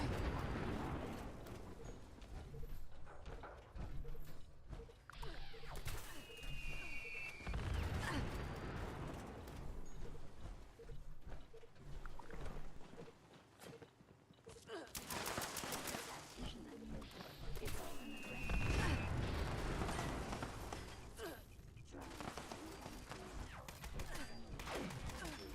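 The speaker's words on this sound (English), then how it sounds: "You gotta love the explosions." Explosions and gunfire in the Fallout 76 video game: two heavy booming blasts roughly ten seconds apart over a continuous loud battle din of shots and mechanical clatter.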